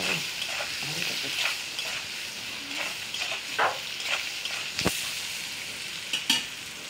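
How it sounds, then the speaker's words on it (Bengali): Potatoes fry in a pan with a little salt and turmeric, giving a steady close sizzle broken by repeated scraping stirs of a spatula, with no talking. "আলুটাকে ভাজার জন্য অল্প হলুদ লবণ দিয়ে তাকে আমি লাল করে একটু ভেজে নেব আলুটাকে"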